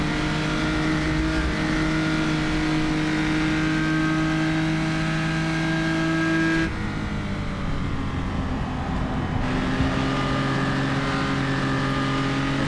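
A historic race car engine drones loud and steady in a Spa Francorchamps racing game, holding a sustained high note before dropping pitch briefly around a gear change, then climbing again under hard throttle.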